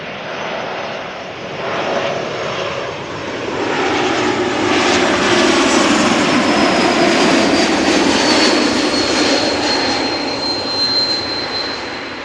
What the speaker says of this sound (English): Time for another E2 Embraer,